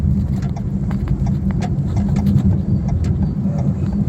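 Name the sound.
Maruti Suzuki Dzire three-cylinder car driving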